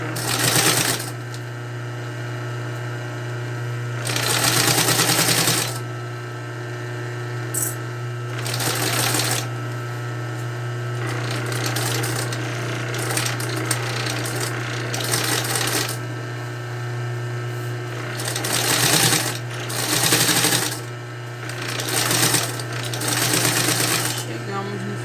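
Sewing machine stitching a synthetic-material Bible cover, running in several short bursts separated by pauses, with a constant low hum and a person talking between the runs.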